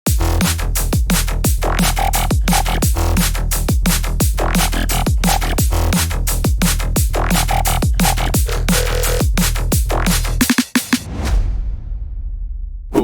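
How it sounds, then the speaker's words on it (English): Heavy drum and bass groove: punchy drums hitting in a fast, steady pattern over deep sustained bass, loud and continuous, then cutting off and fading near the end. "when you put the basses and the drums together, they sound something like this"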